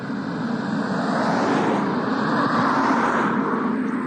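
Steady broadband road rumble of a couple of cars driving past nearby, a continuous, fairly loud wash of tyre and engine noise with no talking.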